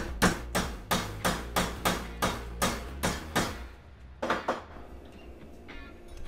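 A lock nut end cap is hammered onto the wheel axle of a Weber kettle grill: about eleven sharp, evenly spaced metallic taps, close and crisp, with a brief pause before the last few.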